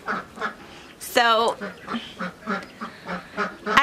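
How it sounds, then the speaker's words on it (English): Ducks quacking loudly outdoors in a burst of honking calls, joined by other rhythmic bird calls, with a person talking nearby over the top. "the ducks are super loud"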